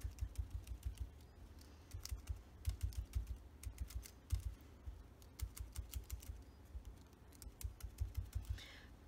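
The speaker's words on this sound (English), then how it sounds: "I have a sponge here and I'm using Early Espresso ink" A sponge dabs Early Espresso ink onto background paper through a stencil, making quiet, quick tapping clicks in irregular bursts close to the mic.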